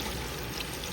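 Water for country-chicken biryani poured steadily into a cooking pot, a continuous close rushing splash lasting the full second with no voices.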